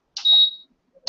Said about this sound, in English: we're going to set the timer for 15 minutes